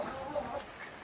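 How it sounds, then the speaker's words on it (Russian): Roosters kept in a greenhouse cluck and murmur softly in a steady, moderately distant stream of short calls, with no talk over them. "вот такие вот петухи"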